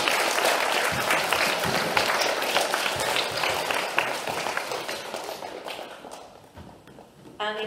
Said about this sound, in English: Can you give 3-4 Silver a round of applause?